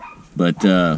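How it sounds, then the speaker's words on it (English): Dogs barking in the background during a fishing sonar tutorial, with two loud bark-like bursts rising over a man's ongoing speech. "pardon the dogs barking,"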